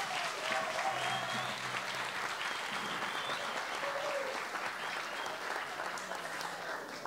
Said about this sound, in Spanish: Un fuerte aplauso para comenzar este acto.